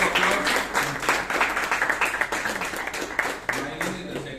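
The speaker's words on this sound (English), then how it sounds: "Please give a big round of applause" Audience applause at a Toastmasters club meeting in Bangalore, dense continuous clapping with a few louder claps standing out, close and full, and voices mixed in underneath.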